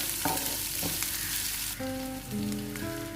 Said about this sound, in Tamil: இது எல்லாத்தையுமே நம்ம நல்லா வதக்கி எடுத்துக்கலாம்.